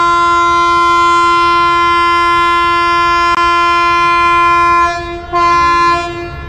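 A train horn sounds loud and sustained at a railway station platform as a train prepares to depart, the steady chord holding for several seconds before dipping and fading.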